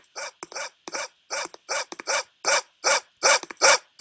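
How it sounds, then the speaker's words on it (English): A video game dog barks repeatedly in a quick, steady rhythm, loud and close, with short pauses between bursts of barks. "I can hear the dog barking"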